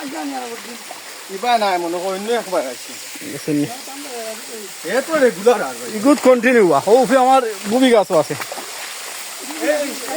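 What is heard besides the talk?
waterfall stream flowing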